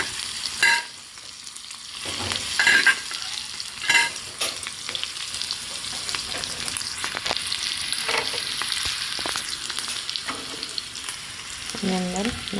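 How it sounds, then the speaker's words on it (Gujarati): Cumin, asafoetida, green chillies and curry leaves crackle in hot ghee for a tempering, a loud, steady sizzle with spatters and stirring that carries through without a break. "હવે આપણે એમાં નાખી દઈશું જીરું, પછી હિંગ નાખીશું, પછી આ લીલા મરચાં અને લીમડો નાખી દઈશું."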